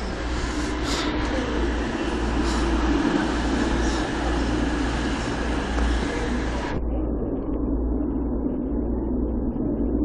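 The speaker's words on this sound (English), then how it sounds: "I spoke too soon, there's an HST." An HST train roars loudly through Leicester station, a dense rushing rumble that cuts off sharply near the end and leaves a quieter distant hum.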